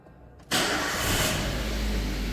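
A car engine cranks and starts during an EFI check with a scanner and gas analyzer, bursting from near quiet into a loud, steady idle roar that continues to the end.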